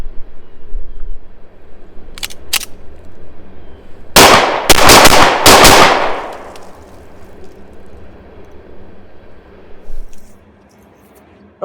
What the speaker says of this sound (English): This is going to be 1 shot fired at the target on the right, 3 shots fired at the target on the left, and then 2 more shots fired